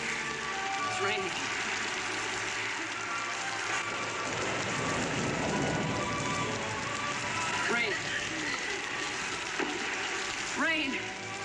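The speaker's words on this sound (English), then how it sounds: "It's raining." Steady rain patters on a surface throughout, a constant hiss with occasional nearby drips and faint background sounds.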